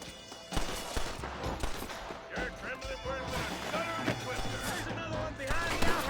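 Gunfire bursts and impacts from the Red Dead Redemption video game on PS4, a rapid cluster of shots and crashes mixed with game music and a talking voice throughout.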